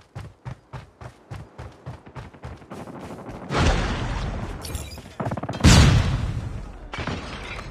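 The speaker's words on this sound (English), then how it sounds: "Frag out!" Gunfire crackles in rapid bursts before a frag grenade explosion booms in a Call of Duty match, followed by a second heavy blast and rumbling debris, loud and close.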